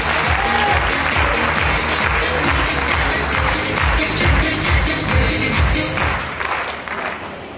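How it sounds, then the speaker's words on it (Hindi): Loud applause from a seminar audience in Kolkata, dense clapping mixed with low thumps and stomping, sustained for several seconds before gradually fading. "माइक्रोफोन दे रहा हूं आपकी जोरदार तालियों के बीच"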